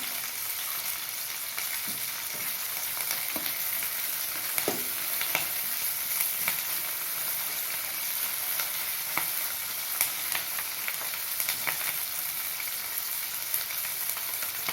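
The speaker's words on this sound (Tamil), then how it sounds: "இப்போ கருவேப்பிலை சேர்த்துக்கிறேன்." Curry leaves frying in hot oil for a Tamil drumstick kuzhambu give a steady, close sizzle, dotted with small pops and stirring clicks.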